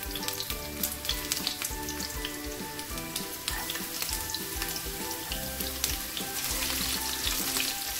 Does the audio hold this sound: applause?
no